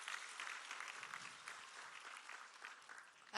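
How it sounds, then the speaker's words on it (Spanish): Crowd applause for the president of the Court at a public event in Oaxaca, a steady dense patter of many clapping hands throughout, with no talk over it. "un aplauso para el presidente de la Corte"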